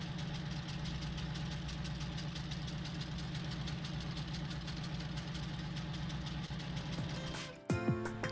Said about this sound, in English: enjoy watching both of these old tractors run in the field